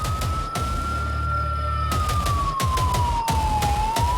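A police car siren wails loudly and continuously, its pitch sliding slowly up and down, while rhythmic thumping and background noise carry on beneath it throughout.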